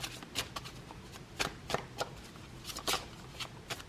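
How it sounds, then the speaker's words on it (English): A tarot deck is shuffled by hand, giving a series of quick, crisp riffling bursts in an irregular rhythm, close and fairly quiet. "Let's get one more card,"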